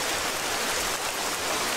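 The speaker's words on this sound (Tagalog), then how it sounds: "Ang lakas pala ng ulan ngayon." Heavy rain pours down in a dense, steady roar of hissing drops, continuous and even throughout with no voices.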